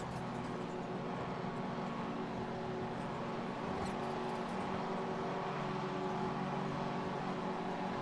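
Subaru rallycross cars roar off the start at Daytona Beach, a dense, steady wash of engine noise and revving from several cars, continuous and fairly loud with no talk.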